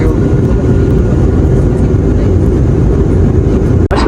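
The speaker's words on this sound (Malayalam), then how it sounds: "നമ്മുടെ ഫ്ലൈറ്റ് ചരിഞ്ഞ് പറന്നുകൊണ്ട് നമുക്ക് ഇവിടുത്തെ സൈഡെല്ലാം കാണിച്ചു തരുന്നുണ്ട് കേട്ടോ" Steady, loud cabin roar of a Wizz Air passenger jet in flight, banking over the Cyprus coast, a continuous broadband drone with a brief dropout near the end.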